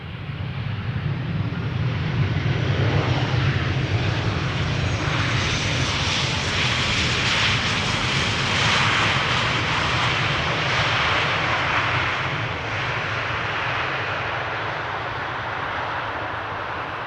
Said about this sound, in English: EasyJet A319 arrival from Prague, now touching down on Polderbaan.